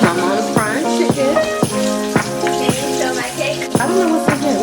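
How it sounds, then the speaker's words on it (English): Steady crackling sizzle of chicken frying in hot oil, with harmonic voices or music layered over it and sharp periodic clatter throughout. "My mom's frying chicken."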